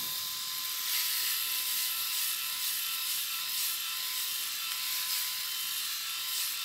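Electric shaver buzzing steadily as it cuts hair from a head, a close continuous high-pitched whir with slight fluctuations in pitch.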